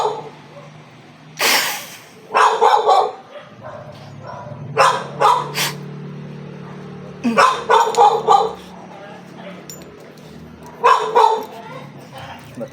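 A dog barks in several short bursts of two to four loud barks, close to the recorder, with pauses between bursts and a low background hum throughout.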